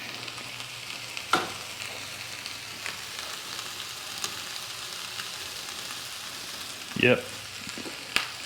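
Food frying in a pan over a gas camp stove flame outdoors, a steady low sizzle running throughout with occasional clinks and bumps, a brief word spoken near the start.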